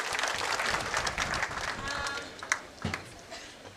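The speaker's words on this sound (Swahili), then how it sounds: "Makofi kwa principal wetu." Applause for the principal at a ninth graduation ceremony, dense clapping from a large outdoor crowd with a few louder claps near the end, steady and moderately distant.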